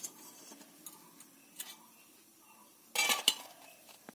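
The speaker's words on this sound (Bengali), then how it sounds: "এবার আমি কড়াই থেকে তুলে নেব।" Metal utensils clink against a wok as fried gulab jamuns are lifted out, with a few light taps early and a louder burst of clattering near the end.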